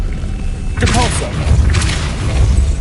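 Depulso spell effect in a Harry Potter wizard video game, a loud booming whoosh with thumping low rumble and a brief shimmering magical flourish, under a speaking voice.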